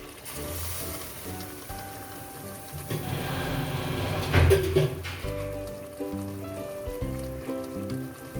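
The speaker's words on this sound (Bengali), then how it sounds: "এবার কষা হয়ে গেছে, এবার আমি জল দিয়ে দেবো।" Water poured into a hot pan of Bengali-style jackfruit and prawn curry gives a rising splashy sizzle around the middle, set against steady background music.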